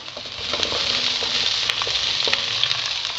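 Pork and garlic fry in a pan with a steady, loud sizzle up close, broken now and then by soft scrapes and ticks from stirring.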